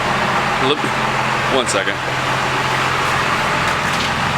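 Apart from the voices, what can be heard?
Duramax and Cummins diesel trucks idling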